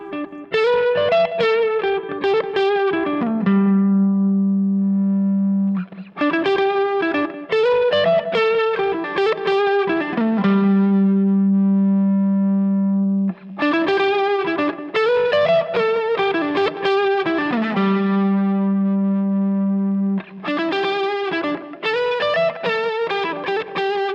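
An electric guitar through an overdrive pedal at high gain plays loud, gritty riffs, with chugging phrases broken by sustained low notes, repeating through several passages.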